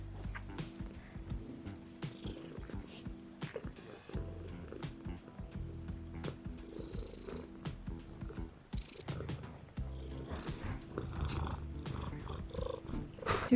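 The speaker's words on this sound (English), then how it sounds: "Do you hear this loud purring?" A cozy pet cat purrs loudly and steadily up close, a low continuous rumbling flutter with small clicks and rustles around it.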